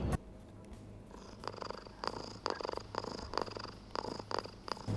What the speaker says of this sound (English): the controller plays purring noises